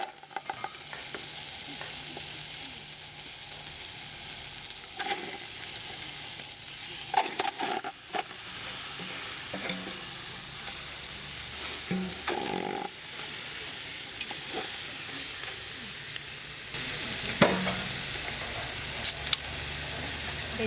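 Marinated chicken pieces cooking in a pot, a low continuous frying hiss broken by scraping stirs and clinks of a utensil against the pot, with no voices.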